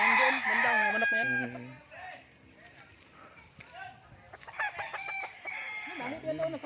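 Chickens and roosters at a poultry farm in Tanay, Rizal, with a rooster crowing loudly up close at the start, then scattered clucks and further crows, mixed with people talking nearby.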